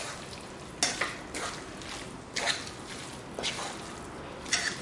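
Chicken being stirred into masala in a pan for a Kerala-style country chicken curry: a handful of distinct scraping, squishing strokes spaced about a second apart over a soft background sizzle.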